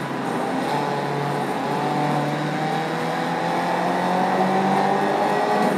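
Racing car engines drone in a PC video game played on dual GTX 480 graphics cards, a steady high-revving roar with shifting pitch and no pauses.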